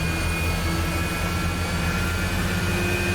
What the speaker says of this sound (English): I've got left motor running. The mighty AL31 Saturn.